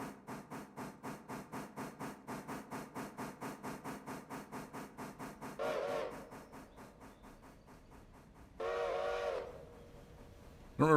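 A steam locomotive in the game Railroader chuffs in a steady rhythmic beat, then sounds two long whistle blasts, with a third starting at the end, no voices.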